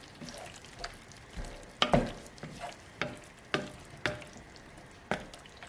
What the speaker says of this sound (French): Donc là, on va mélanger.